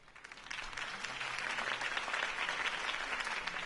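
Steady applause from a crowd in a Batman video game, many hands clapping continuously, moderately loud and sustained throughout.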